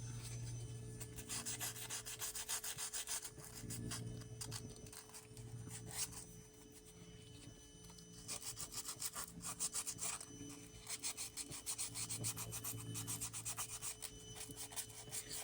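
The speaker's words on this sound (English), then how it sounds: "Sand on it a little bit and then hit it with some brake clean." Hand sanding a metal engine surface before cleaning with brake cleaner, a continuous, close scratchy rubbing in rhythmic back-and-forth strokes with brief pauses, steady and fairly loud throughout.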